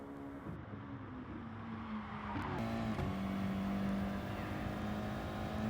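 Audi TT Cup Gr.4 race car engine in GT Sport at Mount Panorama, a steady droning engine note that rises in pitch after a brief shift, with a faint tire squeal.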